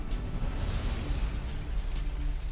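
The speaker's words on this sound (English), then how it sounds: "The sound of a large explosion is heard in the distance." A large explosion booms in the distance, a sustained low rumble that rolls on for a couple of seconds with no voices over it.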